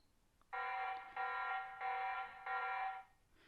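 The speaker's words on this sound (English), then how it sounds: "we set the alarm off on the camera" Loud alarm siren from a TP-Link C200 security camera, four bursts of a harsh buzzing tone with brief gaps, close and alone with no voices.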